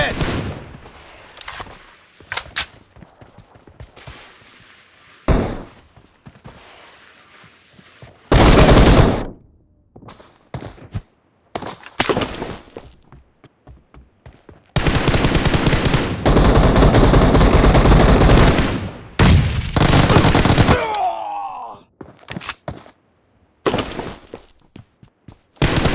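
Gunfire from a PUBG Mobile match fills the scene with bursts of automatic fire and sharp single shots, loud and close, breaking off between volleys with short gaps of quieter game noise.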